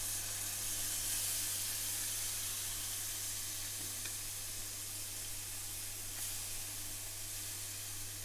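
Tomato puree and fenugreek fry with spices in a pan for a British Indian restaurant-style Madras, giving a steady, fairly quiet sizzling hiss that carries on without a break and with no talk.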